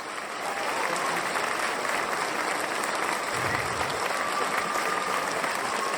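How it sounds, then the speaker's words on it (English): An audience applauds Robert Schoch after a talk, a continuous moderately loud wash of many hands clapping that holds steady throughout, with faint murmuring beneath. "Round of applause for Robert Schoch, please."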